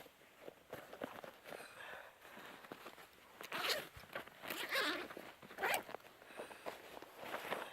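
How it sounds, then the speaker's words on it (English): A packed kit bag being unzipped, several close zipper pulls in quick runs with rustling fabric and handling noise between them. "so that I can unzip it and show you something"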